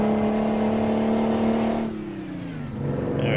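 A truck engine in American Truck Simulator holds a loud, steady high rev, then the revs sag and fall before climbing again toward the end, close and alone with no talk.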